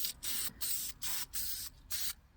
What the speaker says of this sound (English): Then I'm going to take a can of dupli color, vinyl and fabric spray.